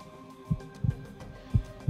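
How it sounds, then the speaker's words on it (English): A heartbeat sounds as soft, low thumps in uneven pairs, about two beats per second, close and muffled against a quiet background hum. "You might be hearing your heartbeat"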